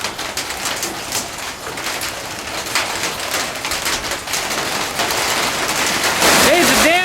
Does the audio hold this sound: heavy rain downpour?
yes